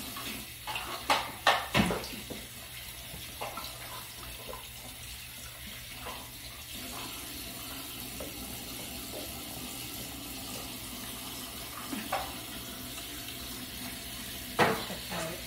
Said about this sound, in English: So turn on the hot water first. And then cold water.